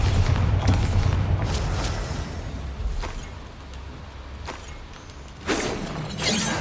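A Bombarda spell blast in the Hogwarts Legacy video game, heard as loud booming rumble with crashing debris, fading then flaring again with a sharp burst near the end.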